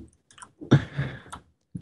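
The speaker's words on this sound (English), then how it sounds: "That's why I have a loud keyboard." Clicky taps of a loud computer keyboard, a few quick irregular keystrokes in short bursts, close and fairly crisp, with no talk over them.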